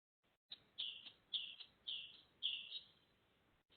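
Songbird calling in a forest outside Brussels: a faint series of about six short, high chirped notes in quick succession, each with a bright sharp onset, alone against quiet background.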